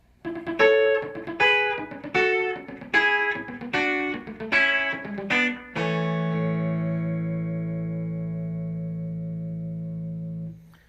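Distorted electric guitar plays several bursts of rapidly triple-picked double stops, chicken-picking style with pick and fingernails, then lets one chord ring out and slowly fade.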